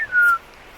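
A bird in a Costa Rica forest gives one clear, fairly loud whistle, a single sliding tone lasting about a third of a second. Quiet woodland background follows it.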